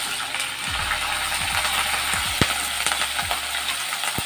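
Chopped onions and green chillies fry in a pan for an Andhra amaranth fry, a loud continuous sizzle punctuated by several ratcheting scrapes and clicks of stirring.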